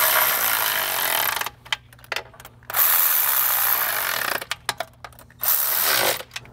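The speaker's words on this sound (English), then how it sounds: "Start tightening some of these intake manifold nuts down." Bursts of a power tool or ratcheting tool tighten intake manifold nuts on a BMW N54 engine, several loud whirring runs separated by short pauses and clicks, close up.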